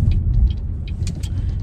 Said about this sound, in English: I'm getting in front of this slow car.